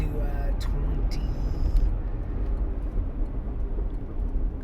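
Steady low road and engine rumble fills the cabin of a moving car, continuous and fairly loud, with a couple of brief high tones early on.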